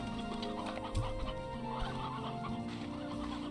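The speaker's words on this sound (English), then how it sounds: "We got a chicken, a runaway." A runaway chicken in the video game Slime Rancher 2 clucks repeatedly at close range over a steady ambient game background, with no talking.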